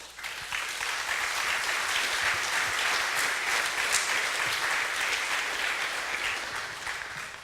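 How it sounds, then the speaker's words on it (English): Steady audience applause fills a conference hall after a Python programming talk, dense and sustained clapping from a sizable crowd, even in level throughout with no voices on top. "Really a huge applause for Margo game because it was in the middle of everything"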